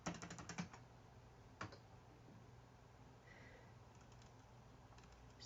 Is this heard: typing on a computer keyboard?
yes